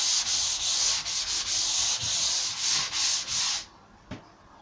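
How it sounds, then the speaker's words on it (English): A painted kitchen cabinet door is hand sanded with 320-grit sandpaper. The rasping strokes come close and steady, about eight back-and-forth passes at an even rhythm, then stop. One faint knock follows. "I put one coat on, then I'm sanding them off with"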